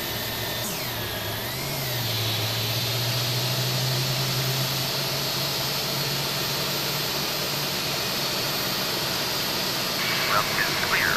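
Airbus A320 jet engines run steadily in the Aerosoft flight simulator, a loud continuous roar with a rising whine settling into a sustained tone, heard alone without talk.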